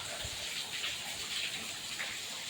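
Heavy rain pours steadily in a village with water flowing, a dense continuous hiss and rush that stays loud and even from start to finish, with no talking.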